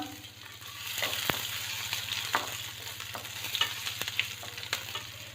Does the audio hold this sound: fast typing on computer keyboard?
no